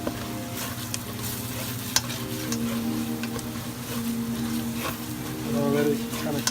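Crawfish etouffee is stirred in a sizzling pan, with a spoon scraping and turning through the frying mixture in a continuous, moderately loud sizzle and a few sharp clinks against the pan.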